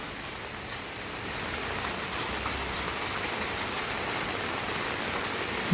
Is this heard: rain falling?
yes